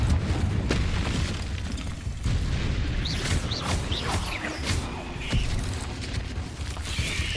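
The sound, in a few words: Confringo spell explosion, from video game Hogwarts Legacy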